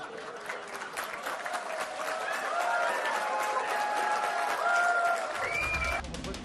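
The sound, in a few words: audience applauding a speech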